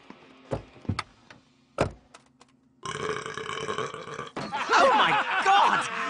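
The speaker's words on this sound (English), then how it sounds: "That was such a hot burp!" Loud, drawn-out cartoon burp from an animated comedy taxi scene, a long, rough gurgling belch rising in volume over several seconds after a few short knocks and thumps.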